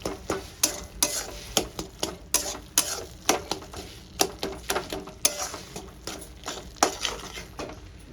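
Beaten sour yogurt stirred into a frying pan for a rohu fish curry, with repeated sharp scraping and clinking of a spoon against the pan in a steady rhythm over a soft background sizzle, close and fairly loud, no talking.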